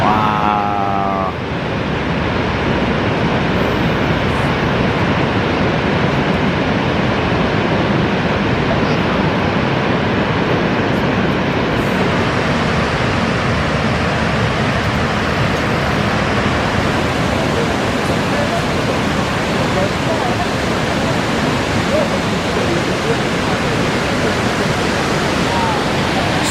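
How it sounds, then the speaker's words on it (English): A waterfall lit up at night, viewed from right at its edge, pours in a loud, steady, broadband roar that fills the whole stretch without a break. "right at the edge of the falls here. You can see the water going over."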